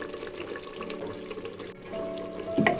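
Potatoes and peas go into a hot pan for matar aloo handi, giving a steady close sizzle and bubbling that ends in a brief splashy clatter as they land.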